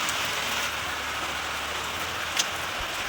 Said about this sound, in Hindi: बाहर इतनी तगड़ी वाली बारिश हो रही है